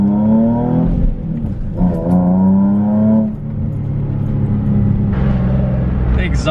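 Nissan 350Z fitted with an HKS exhaust and ISR test pipes, a loud engine rising and falling through several revs with a deep droning tone, a voice speaking over it.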